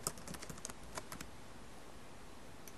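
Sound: typing a password on a computer keyboard

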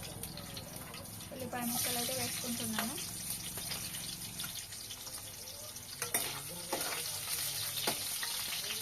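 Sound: mustard seeds and green chillies frying in a pan

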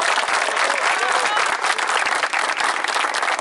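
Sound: applause

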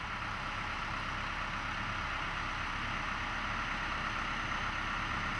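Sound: excavator engine starting and idling

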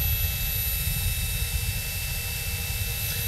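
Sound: RC motor spooling up on a test stand

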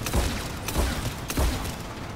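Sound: turret gunfire in video game Mass Effect 3

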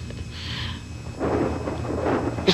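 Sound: thunder

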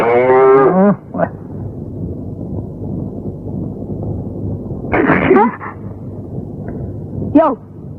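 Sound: cow mooing

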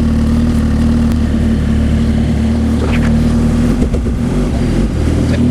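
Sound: Suzuki GSX-R 1000 motorcycle engine running

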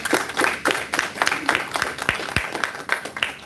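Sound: audience applause

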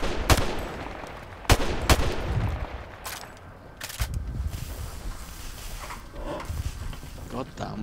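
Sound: gunfire in video game Modern Warfare Remastered

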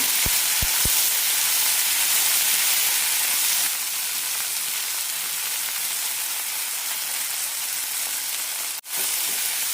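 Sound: tomatoes sautéing in a frying pan

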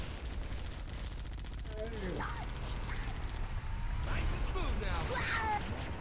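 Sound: gunfire in the video game Halo: Combat Evolved

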